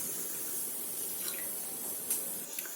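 A continuous soft splashing hiss of water being poured into a pot of Maharashtrian yogurt kadhi, with a small splash near the end.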